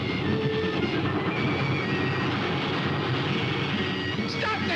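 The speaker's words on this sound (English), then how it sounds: "Stop the train!" A train running on rails makes a steady, dense rumble with a faint rhythmic rattle. It continues loud and unbroken throughout, with muffled voices underneath.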